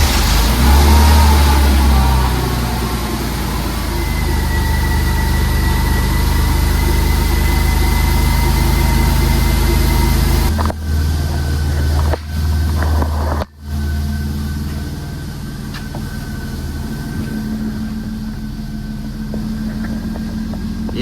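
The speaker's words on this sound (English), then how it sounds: "Let's do a cold start here. See how this thing starts." A Mercedes C32 AMG W203 running on E85 fuel cold-starts with a loud, rough roar, then settles into a steady, close idle interrupted by a few brief dips and stumbles.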